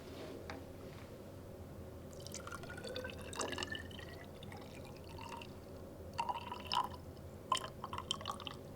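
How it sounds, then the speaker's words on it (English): Water trickles and drips into a graduated cylinder, faint and close, with soft splashing pulses near the end and no talking. "I'm going to go ahead and fill it with water"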